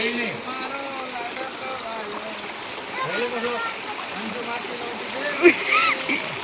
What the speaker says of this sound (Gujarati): નદીનો ખડખડ અવાજ